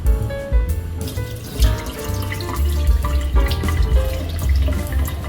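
Water from a rinsing bowl is tipped out into a kitchen sink holding rinsed chicken, giving a steady splashing, running-water wash for several seconds, close and fairly loud, with no talking.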